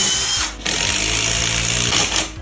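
A power drill boring pilot holes into a wall for mounting a TV in a home gym, a loud whirring motor run that briefly dips then continues steadily, close to the microphone with no talk.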